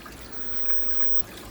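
Steady trickling water runs through a garden koi pond filter fed by a pump, a continuous close splashing flow without pauses or voices.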